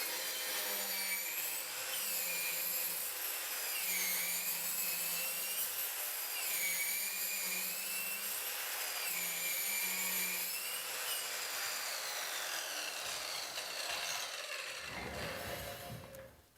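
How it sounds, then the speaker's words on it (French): An Exact Tools pipe saw cuts through a pipe at real speed with a continuous, whining, grinding motor hum. The pitch wavers as the blade works, and a low periodic chatter runs underneath before the cut winds down and stops. "nous scions le tuyau en vitesse réelle"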